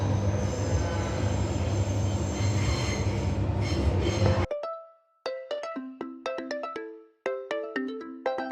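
A suburban train on the Midland Line pulls out of the station with a loud rumble and a high, sustained wheel squeal, then a crisp series of electronic beeping chimes plays in bursts.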